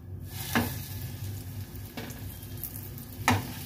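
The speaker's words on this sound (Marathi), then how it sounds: "आता आपलं तेल गरम झालेलं आहे चांगलं, त्याच्यावर आपण पापलेट टाकूया।" Stuffed pomfret frying in hot oil in a pan, a soft steady sizzle close by, broken by three sharp scraping or tapping sounds, with no talking.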